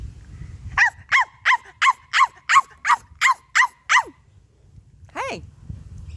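A dog barks in a quick, steady series of about ten sharp yelps, then a pause and one more drawn-out bark, close and loud.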